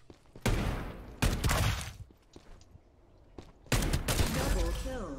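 Bursts of video game gunfire during a shooter match, loud broadband blasts in two main stretches with a quieter gap between, mixed with thuds and game sounds; a voice talks over parts of it.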